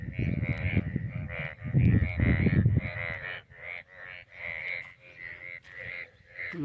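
Many frogs croaking in a dense, steady chorus after monsoon rain in Pakistan, with a person talking over the calls for the first few seconds.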